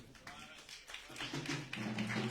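Applause from a church congregation at a Baptist service, a thin patter of claps that thickens into steady, fairly quiet clapping under a faint voice.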